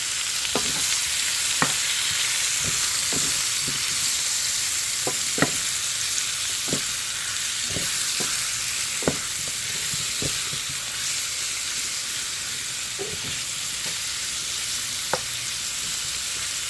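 Chicken fajita meat fries in oil in a pan with a steady, bright sizzle, punctuated by sharp clicks and scrapes as it is stirred, close and continuous, no talking.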